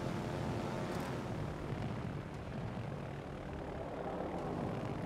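Aircraft launched off a ship in a naval video game: a steady, fairly loud drone of propeller aircraft engines fills the whole stretch with no talk over it, and the level stays even throughout.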